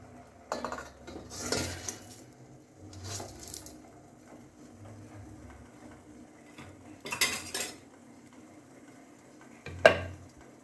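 A steel plate is set over a pot of boiling water on a gas stove, giving a few scattered metallic clatters and clinks spaced apart, close and fairly quiet, with a sharp final clank and no talking.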